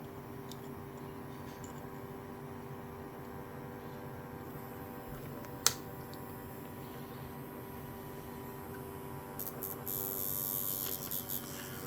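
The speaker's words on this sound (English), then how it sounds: "Motor spinning away nice and happy." A small electric motor spinning steadily, a faint constant hum and buzz at low level, with a single sharp click partway through and a slight rise in hiss near the end.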